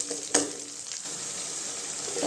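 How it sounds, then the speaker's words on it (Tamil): Tomatoes sautéing in a pan after onions, for a spicy brinjal kuzhambu; a soft, steady sizzle with one sharp clink of a spoon against the pan near the start, no talking. "தக்காளி நல்லா பச்சை வாசனை போகிற அளவுக்கு வதக்கி விட்டுக்கோங்க"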